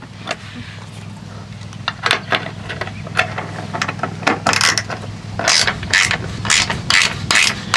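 A ratchet strap tie-down is cranked tight on a personal watercraft trailer, giving a run of sharp metallic clicks in irregular bursts. The clicks grow louder and more rapid toward the end over a low background hum.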